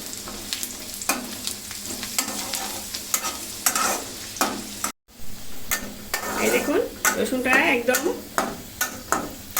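Chopped garlic and dried red chilli frying in oil for a chicken bhuna, a dense crackling sizzle with repeated scrapes and knocks of a spoon against the pan and a brief dropout midway.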